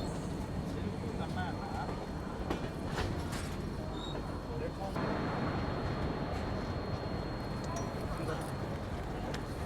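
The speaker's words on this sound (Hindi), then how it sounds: "हमारी ट्रेन का अराइवल हो रहा है काजीपेट जंक्शन रेलवे स्टेशन पे फाइनली" A train pulling into Kazipet Junction railway station on the Danapur Secunderabad Express, heard as a steady, dense rumble and rattle of rolling stock that carries on without a break, with a voice at times beneath the noise.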